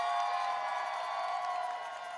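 Crowd cheering and making noise at the Obama Presidential Center plaza grand opening, a steady dense roar with scattered whoops, fairly near and loud, easing slightly toward the end.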